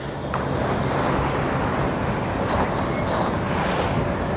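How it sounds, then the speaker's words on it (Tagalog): Surf crashes steadily on a dolomite sand beach on Manila Bay in the afternoon, a constant wash of noise with a few sharper splashes and wind buffeting the microphone. "Ang ganda tignan ng hampas ng alon dito kapag ganitong hapon na"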